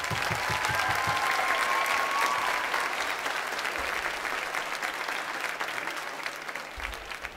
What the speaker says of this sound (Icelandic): Eigum við ekki að gefa þeim ótrúlega gott klapp.